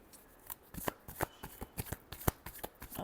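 Tarot cards are shuffled close up in a string of quick, crisp riffles and snaps with irregular pauses between bursts. No voice is heard.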